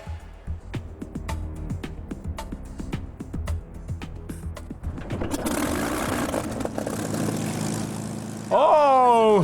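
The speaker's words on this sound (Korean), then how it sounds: "엔진 소리가 대단한데요." A Spitfire propeller aircraft engine idles with rapid rhythmic chugging, then revs up into a louder, steady roar with a rising whine near the end.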